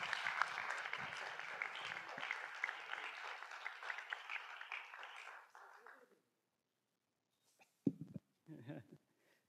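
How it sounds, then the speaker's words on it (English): Sustained audience applause at a panel talk fills the first six seconds, then fades into quiet, followed by a few brief bursts of nearby speech. "Clap as they come."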